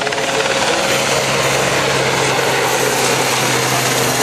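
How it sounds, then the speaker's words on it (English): A Belgian Air Force Sea King Mk.48 search-and-rescue helicopter passes at an airshow, its rotor and turbine making a loud, steady, close drone that fills the whole stretch. "Got the Seaking just coming in front of us now. This is from the Belgian Air Force."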